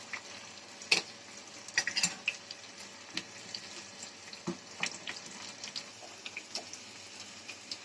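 Onions and two dried red chillies sauté in oil over popped mustard seeds for a wheat dosa batter, giving sparse, irregular crackles and pops over a soft, low hiss, with no voices.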